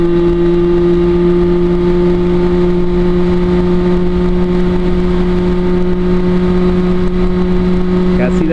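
A Derbi Senda 50cc motorbike engine drones loud and steady with a constant buzzing pitch, close up and continuous, with no clear breaks for gear shifts.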